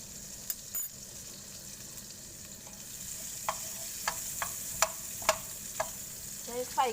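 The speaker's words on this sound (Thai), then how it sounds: "ตอนนี้กระทะเริ่มร้อนแล้วนะคะ เพื่อนใส่เนยลงไปก่อนเลยนะคะ" Steady hiss of butter sizzling in a hot frying pan, with a handful of sharp utensil clicks and taps scattered through it, no talking.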